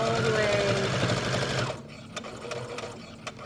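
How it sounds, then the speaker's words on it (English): A sewing machine stitches back and forth over folded fabric creases, its steady whirring loud and close for about half the time, then stopping into quieter handling clicks as a voice speaks over it. "And I just sew over it that way."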